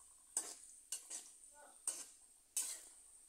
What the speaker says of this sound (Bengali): এভাবে আমি আলু কিছুক্ষণ ভেজে নিচ্ছি।